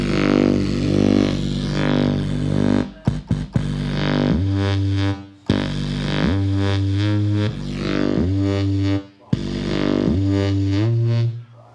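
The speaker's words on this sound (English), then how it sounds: "I've created this bass line with the Omnisphere. There's some flame distortion on it." Omnisphere synth bass line with flame distortion and a high-end boost, gritty and buzzing, playing a pumping riff of sustained notes broken by short stuttering cuts and gaps, loud and alone without speech.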